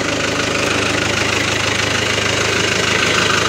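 A Fiat tractor engine idles steadily during a clover harvest, a loud, continuous low mechanical drone with a faint knocking texture and no talk over it.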